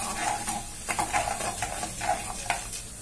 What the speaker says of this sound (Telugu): ఇలా వేసుకున్నాం కదా, వేగుతున్నాయి